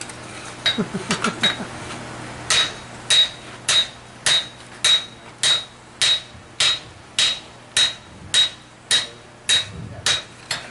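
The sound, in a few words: hammering metal on an anvil to create texture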